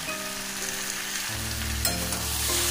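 Jackfruit curry masala with sugar and garam masala sautéing in a pan, a steady close sizzle and fry hiss that thickens and grows slightly louder partway through, with soft stirring, alone without any voices.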